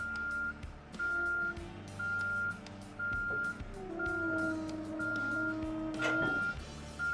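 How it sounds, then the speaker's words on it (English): A truck tractor backing up to a specialized trailer gives out steady, evenly spaced reversing beeps over a low diesel engine rumble, with a brief clank near the end. "Back your tractor up to the trailer."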